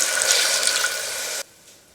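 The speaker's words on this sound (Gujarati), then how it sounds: "હવે થોડું પાણી નાખીશું" Water pours into sautéed green pigeon peas in a pressure cooker: a loud, close, rushing splash for about a second and a half that stops abruptly.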